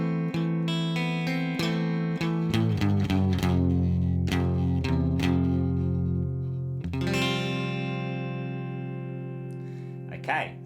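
Electric guitar plays the chorus of a song with a thick, effected tone, strummed chords sustaining and sliding, then a final ringing chord left to decay.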